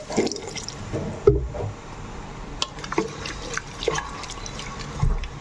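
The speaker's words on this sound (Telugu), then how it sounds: "ఇప్పుడైతే వాటర్ అయితే వేసుకుంటున్నానండి, ఒక చిన్న గ్లాస్ వేసుకుంటున్నాను ముక్క మునిగే వరకు." A small glass of water is poured into a pan of bottle gourd chicken curry, giving faint irregular splashes and drips with a few soft clinks in a quiet kitchen.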